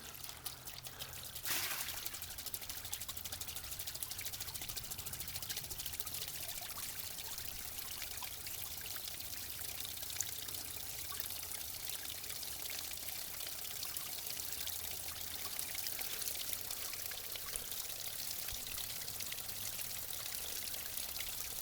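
Water from a dam pours through a waterwheel flume in a steady, continuous rushing stream that starts abruptly and holds an even loudness throughout.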